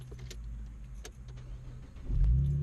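Keys jangle in the cabin of a modded 2014 Chevrolet Camaro with a manual gearbox, then the engine cranks and catches with a deep rumbling start that grows louder at the end.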